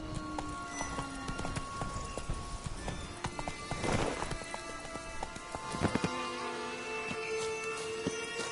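Roach, the horse in The Witcher 3 game, gallops hard: loud, rapid hoofbeats pound throughout over a dense ambient game bed, with a surge of noise around the middle and a few sharp impacts later, no speech.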